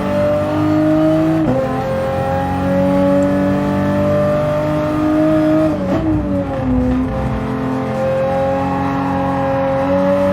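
Race car engine during a lap in a racing video game, a loud steady high-pitched drone that holds its pitch, with brief dips and shifts in tone as the car brakes and takes corners, no talk.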